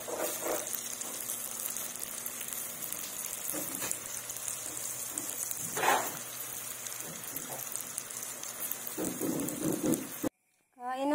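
Rain falling steadily, a dense continuous hiss close by, with a few brief voices speaking over it and a short sudden cutout near the end.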